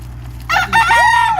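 Wild chickens in a Florida city: after a brief quiet, a rooster lets out a loud, close crow, its drawn-out falling call clear above a steady low background hum.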